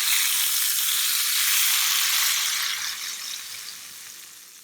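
Hot tempering of oil and red chilli hits black urad dal, giving a loud, bright sizzle that fades gradually over a few seconds.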